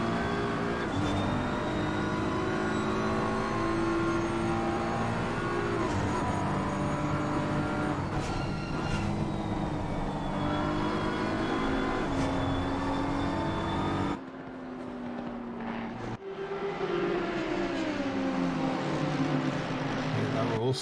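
Racing car engines roar and accelerate continuously in a sim racing league race at the Zandvoort circuit as a pack fights for position into turn one, loud and steady with brief dips, under commentary.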